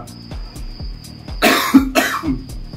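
A person coughs twice, harsh and close, over a steady rhythmic engine-like thumping and a faint high whine.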